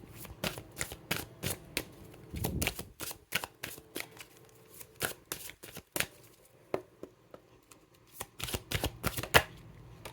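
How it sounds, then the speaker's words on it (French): Oracle cards being shuffled by hand, a rapid series of crisp riffling flicks and taps close up, with brief pauses between bursts and no talking. "Je vais tirer des cartes de l'oracle de mon crush."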